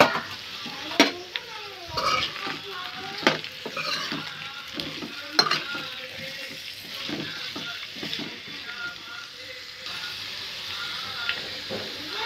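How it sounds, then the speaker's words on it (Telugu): Bottle gourd pieces sizzle and fry in a pan with ginger garlic paste, with repeated scraping and clattering stirs of a utensil against the pan, fairly close and alone. "ఇప్పుడు కట్ చేసి పెట్టుకున్న సొరకాయ ముక్కలు వేసుకోవాలి."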